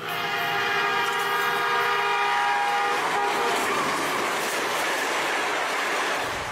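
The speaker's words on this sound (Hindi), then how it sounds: "ट्रेन आ रही है।" A train approaches steadily on a railway line with a loud, continuous rumble. Horn tones sound over it in the first half, and no voices are heard.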